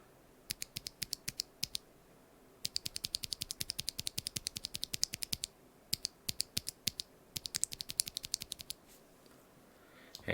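Typing on a keyboard with stock, unlubricated NovelKeys BOX Cream switches: bursts of crisp, close clacks in quick runs, with short pauses between them, heard alone.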